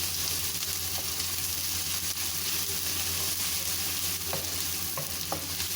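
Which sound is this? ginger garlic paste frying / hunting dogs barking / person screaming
ginger garlic paste frying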